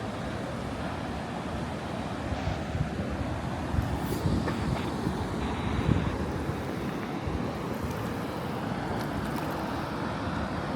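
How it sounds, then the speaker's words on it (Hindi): Cold glacial meltwater of the Ganga rushing near Gomukh glacier in the Himalayas, a steady broadband roar of flowing water that stays even and fairly loud from start to finish with no talk over it. "This is Ganga Maiya."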